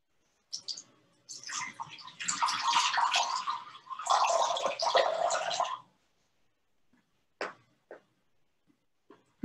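Water poured out in a steady splashing stream for several seconds during a quiet religious storytelling lesson, followed by a few faint drips and small clinks.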